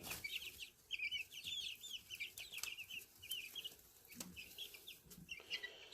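Small chicks clucking and peeping steadily while pecking at a treat, with high chirps repeating throughout at close range, alone without talk.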